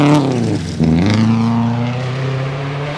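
A rally car blasts through a forest stage at Concord Pond during the 2012 NEFR rally, its engine snarling loud and close with a gear change, then settling into a sustained high-revving drone.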